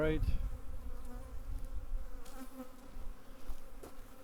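Honey bees buzz inside a nucleus hive, a close, steady droning hum with a brief louder rustle at the start and a low background rumble throughout.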